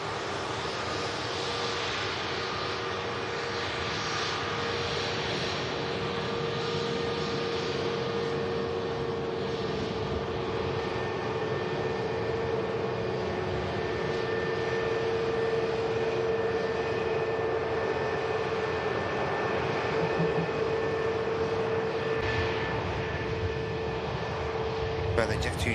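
Jet2 airliners at Manchester Airport produce a steady, unbroken engine roar that holds at an even level, with faint talk mixed underneath.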